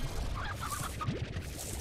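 Stony hens in the Slime Rancher video game give a few soft, quick clucks over a busy game background. The sound is brief and moderately faint, with no talk.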